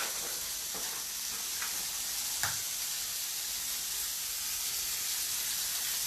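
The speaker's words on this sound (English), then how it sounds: "going to get a bowl and start frying my eggs" A soft, steady sizzle of three eggs frying in a pan, with a few light clicks and one small clatter, no talking.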